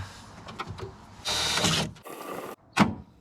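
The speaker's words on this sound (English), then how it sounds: "Just drill one more hole and we're done." A few soft clicks and handling noises, then a power drill whirs in two short bursts with a brief pause between, followed by a final quick spin.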